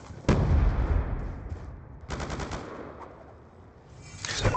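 Video game gunfire rattles off in loud bursts, first a heavy volley, then a rapid automatic string, then another burst building at the end.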